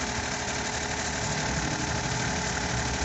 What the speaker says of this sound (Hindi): ये अब इंजन रेस हो गया।